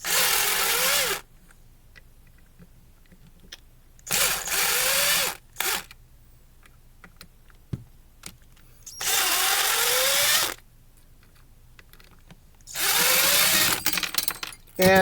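Power driver backing out four screws from the motor of a Mainstays 9-inch fan, heard as four separate whirring bursts of a couple of seconds each, close and loud, with quiet pauses between them.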